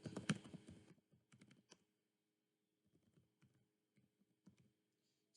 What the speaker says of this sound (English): So we are going to be typing in the slide 2, advantages of computer literacy.